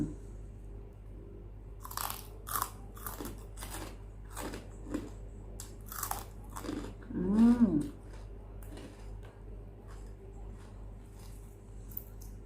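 Crunchy Thai pork rinds (khaep mu) are bitten and chewed in a series of close, sharp crackling crunches over several seconds, followed by quieter chewing and a brief vocal sound.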